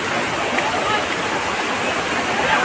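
The Tamhini Ghat waterfall pours in a loud, close, unbroken roar of rushing water, steady throughout.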